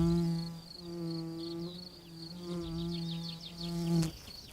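A wild bee buzzes at a red poppy, its steady droning hum rising and falling as it works the flower up close, with short pauses between bursts of buzzing.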